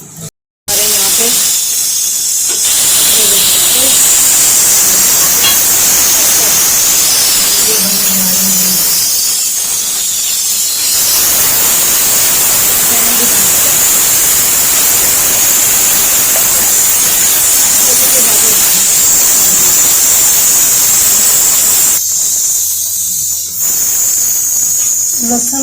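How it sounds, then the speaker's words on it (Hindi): Garlic tadka for masoor lentils sizzles in hot oil with a loud, continuous bright hiss that fades briefly then surges again, while voices murmur faintly underneath. "लहसुन का तड़का मसर में बड़ा मज़ेदार।"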